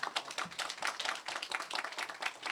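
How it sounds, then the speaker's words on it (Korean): Applause from the audience at a Suwon mayoral candidate policy debate, a dense patter of clapping hands that runs steadily through the whole moment without pause. "우리 두 분의 후보님에게 심찬 박수 한번 부탁드리겠습니다"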